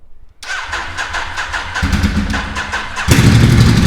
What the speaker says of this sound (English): let's do the startup of this engine, and to hear the exhaust spark.